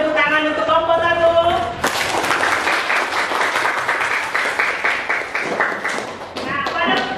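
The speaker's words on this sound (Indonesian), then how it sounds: "beri tepuk tangan untuk kelompok 1" A classroom group claps for the winning team, a loud burst of mixed applause with tapping and thumps lasting about four seconds, preceded and followed by voices.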